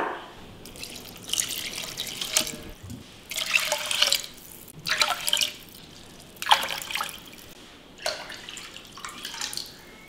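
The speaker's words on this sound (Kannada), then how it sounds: "ಅದಕ್ಕಾಗಿ ಇದರಿಂದನೇ ಒಂದು 5 ಕಪ್ನಷ್ಟು ನೀರನ್ನ ಹಾಕ್ತಾ ಇದ್ದೀನಿ." Water is poured onto rice in a pressure cooker in about five separate splashing pours, each lasting a second or two with brief pauses between, close and fairly soft.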